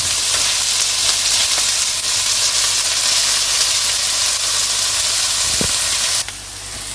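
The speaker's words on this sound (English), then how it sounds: "The onions have been frying like for 2 minutes or so." Loud, steady sizzling and crackling of onions frying in a hot pan, continuous and close, easing off abruptly near the end.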